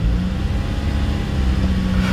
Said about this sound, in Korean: 이게 엔진 회전하는 소리예요